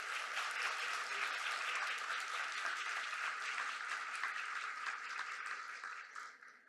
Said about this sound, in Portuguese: Palmas para a professora.